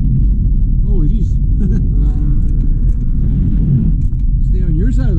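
Passing car on the road rumbling loudly nearby with popping backfire-like bursts from its exhaust, heard under steady road rumble while a person talks.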